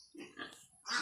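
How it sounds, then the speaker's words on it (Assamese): A pregnant Yorkshire sow on a small pig farm gives a couple of short, close grunts within about a second. "এজনী গাভিনী গাহৰি"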